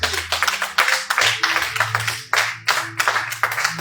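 Congregation at a French-language church celebration service clapping in a steady rhythmic beat, loud and close, with music and voices underneath throughout.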